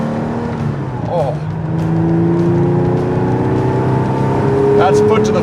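Porsche 911 G-Body accelerating flat out, its engine note climbing steadily and loud from inside the car, with a voice speaking over it.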